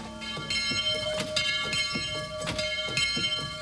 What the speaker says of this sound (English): we suddenly heard a distant dinner bell ring.